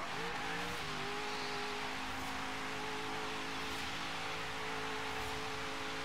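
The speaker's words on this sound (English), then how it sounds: "Do a little burnout maybe?" Car burnout in Forza Horizon 3: a sustained engine roar that climbs briefly in pitch at the start and then holds high and steady, buried in dense hiss from spinning tyres.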